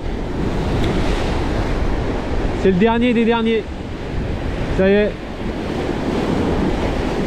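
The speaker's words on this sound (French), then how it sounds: "le vent il se levait mais terriblement fort" A strong wind roars on the seashore during sea bass fishing: loud, constant buffeting against the microphone, mixed with surf, while someone speaks briefly twice.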